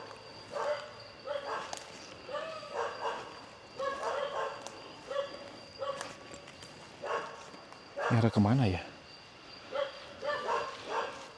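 Dog barking and howling in a forest near a hidden hillside village, with repeated bursts of barks rising and falling at moderate distance, one louder howl-like cry near the end, and a person speaking briefly.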